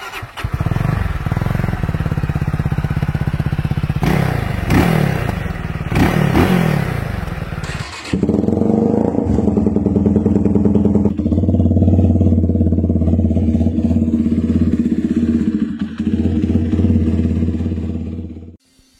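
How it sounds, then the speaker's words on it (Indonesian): A Benelli Leoncino 250 motorcycle exhaust blips in several sharp revs, then settles into a loud, steady idle rumble close by before cutting off. "saatnya kita akan mendengarkan suara knalpot dari Benelli Leoncino"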